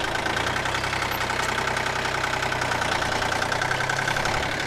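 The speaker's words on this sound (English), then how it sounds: "As when I'm using the motorcycle, I would like to have a little engine in the background." Motorcycle engine idling steadily, heard through a microphone mounted on an open face helmet; a continuous low hum with a faint knocking pulse runs without break for the whole stretch, with no talking.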